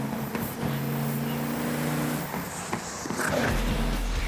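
A race car engine at Laguna Seca roars in a steady drone, then shifts gears with brief drops in pitch. The loud engine noise is joined by track ambience and a deep low rumble near the end.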